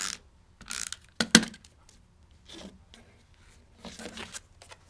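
Tape is pulled and applied to the back of a handmade card tag with ribbon; quiet rustles and a few sharp crinkles and clicks, close up, with no talking.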